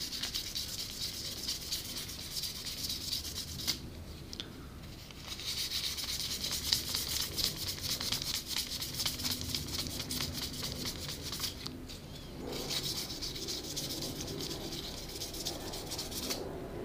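A cloth rubs Autosol polish over a metal surface in a steady, close, scratchy back-and-forth, continuing for about seventeen seconds with only brief pauses and no talk.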